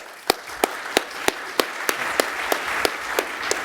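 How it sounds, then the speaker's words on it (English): A keynote speaker at a security conference is welcomed by an audience, with a dozen evenly spaced sharp claps standing out over a steady wash of hand-clapping lasting a few seconds. "I would like to welcome him with a very warm round of applause."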